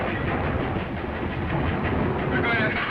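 A train from the 1940 film The Green Hornet rumbles along its rails in a steady, muffled roar with a faint rhythmic rattle, continuous and fairly loud, with no clear talk over it.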